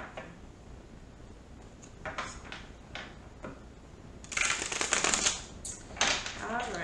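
A deck of tarot cards is shuffled by hand during a Scorpio reading, soft riffling bursts rising to a louder flurry near the end, close and quiet, with no talking over it.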